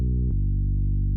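A steady synth bass layer built from individually drawn-in harmonics in FL Studio holds a loud, sustained buzzing tone, with its pitch dropping slightly partway through and no other sounds.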